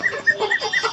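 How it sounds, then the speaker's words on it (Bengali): A newly laying hen gives a quick series of soft, rhythmic clucks close by, about four short calls in one second with no talking. "ওইটা হচ্ছে আমার নতুন ডিম পাড়া মুরগিটা"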